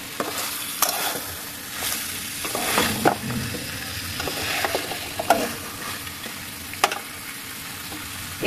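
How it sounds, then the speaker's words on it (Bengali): Spice paste and meat sauté in a pan, a continuous close sizzle punctuated by repeated scraping and clinking stirs at an irregular rhythm. "এভাবে আমি মশলাটা ভালো করে কষিয়ে নেব এবং মাংসটাও কষিয়ে নেব"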